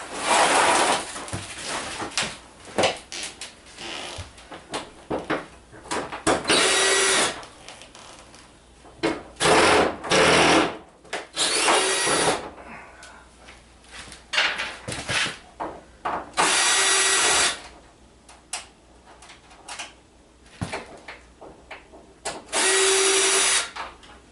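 A power driver removes screws from a Vizio 70-inch TV being scrapped. It whirs loudly in repeated bursts of one to two seconds, with clicks and plastic handling noises between them.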